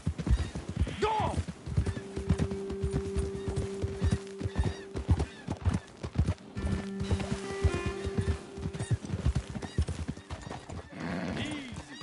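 Horses clip-clopping at a brisk pace with whinnies and neighs in Red Dead Redemption 2, hooves pounding steadily and close alongside a sustained droning tone, with a louder snort and whinny near the end.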